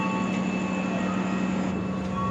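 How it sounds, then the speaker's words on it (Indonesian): KA Bengawan passenger train at Lempuyangan station, Yogyakarta, at night: a steady, continuous rumble with a low mechanical drone and faint high hum as it departs, heard alone without talk. "KA Bengawan kembali diberangkatkan dari stasiun Lempuyangan Yogyakarta jam 22:07"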